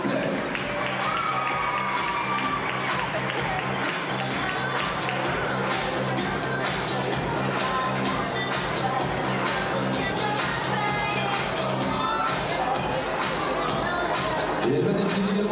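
Audience applause at the Miss Saône-et-Loire 2014 election pageant, a dense, steady wash of clapping and crowd noise sustained throughout, loud and continuous with possible voices mixed in.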